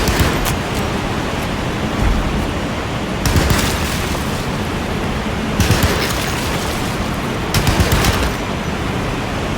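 Gunfire from the 2024 game Alone in the Dark, probably pistols: bursts of loud, noisy shots in clusters at roughly two-second intervals over a constant dense wash of hissing ambient noise.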